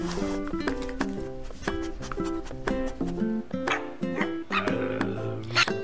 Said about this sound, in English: I opened the door to let my dog, Cowgirl, out